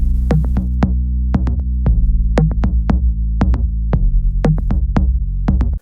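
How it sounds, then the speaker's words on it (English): Chorus section of a remix where three layered kick drums punch out in a steady repeating pattern over a sustained bass carrying only its mid range; each kick is a sharp, loud transient, with no voices present. "we have all 3 of the kick layers going, but only the mid of the bass"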